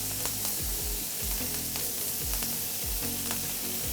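Scallops sizzle and fry steadily in a hot pan with thyme nearby, a dense continuous hiss broken by soft clicks and brief pops of fat, close and fairly loud with no talking.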